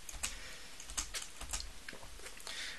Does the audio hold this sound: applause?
no